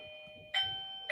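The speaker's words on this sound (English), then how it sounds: "That's my doorbell camera ring" A doorbell camera chimes twice in quick succession, a clear bright tone with sustained ringing overtones, alone and close.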